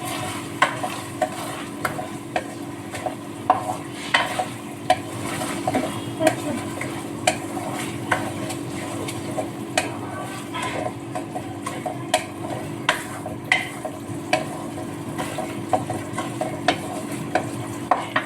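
Rice is stirred in a pot with ginger paste, cinnamon, cardamom, onion and salt for white pulao, a steady soft sizzle punctuated by regular clinking scrapes of a spoon against the pot, close and repetitive.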